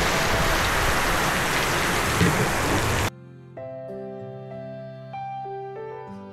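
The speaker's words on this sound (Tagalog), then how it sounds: "Grabe po ang lakas ng ulan." Heavy rain hisses in a dense, steady roar for about three seconds, heard from shelter at a shop, then cuts off abruptly into a few soft sustained musical tones.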